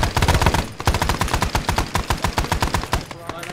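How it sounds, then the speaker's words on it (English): A mounted machine gun fires in Arma 3 during a Vietnam-era Prairie Fire operation, loosing rapid, loud repeated bursts of shots with short pauses, the rattle continuing almost nonstop before tapering off near the end. "Mounted gun."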